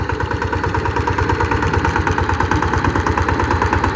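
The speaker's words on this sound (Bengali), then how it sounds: "মোটামুটি থেকেও বেশি অনেক সুন্দর সাউন্ড ইঞ্জিনের" A Sifang 14 hp diesel power tiller engine with 18 blades runs steadily at idle, a loud, even chugging with a fast regular beat and metallic clatter.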